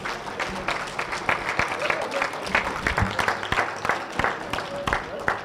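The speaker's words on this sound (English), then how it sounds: "give these Hall of Famers a big round of applause" Audience at an auctioneers and ringmen championship applauds standing Hall of Famers, sustained sharp clapping with scattered voices mixed in.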